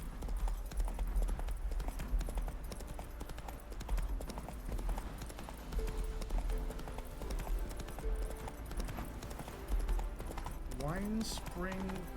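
The horse Roach gallops in Witcher 3. Hooves beat in a quick, steady rhythm all the way through, with game music underneath and a short whinny near the end.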